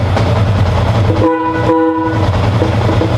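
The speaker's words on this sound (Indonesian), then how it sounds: "Coba kita klakson." A steady motorcycle horn blast sounds twice in a row over a continuous engine rumble, close and loud.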